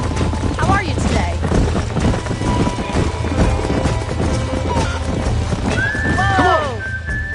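Horses in the Red Dead Redemption video game, with hooves clip-clopping under a busy game soundscape, then one loud, clear neigh near the end.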